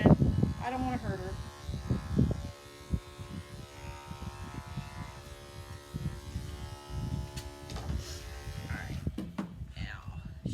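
Electric clippers buzz steadily while trimming the wispy hair on a dog's underside during a grooming session, the hum running mostly under a person's ongoing talk.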